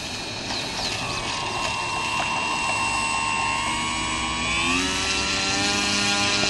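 An electric Slowpoke model airplane flies overhead with a steady whining motor and propeller drone, continuous and fairly loud, shifting pitch slightly as it passes during a test flight.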